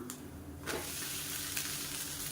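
Rice-flour adai pancake frying in oil on a pan, giving a steady close sizzle with a few soft scraping or stirring touches, no voices.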